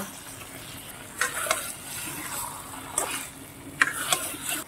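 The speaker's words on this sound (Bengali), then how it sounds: "এইবার আমি পটল দিয়ে একটু কষিয়ে নেব।" Pointed gourd (potol) sautéing in a pan with salt for doi potol, a steady soft sizzle under a few sharper stirring scrapes, close and moderately loud, no talking.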